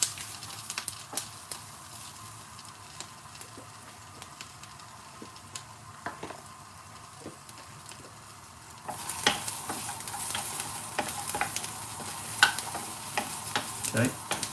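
Onions and peppers sizzling and being charred in a hot pan for a jalfrezi curry, a quiet frying hiss that jumps louder partway through, with scattered scraping stirs and clicks.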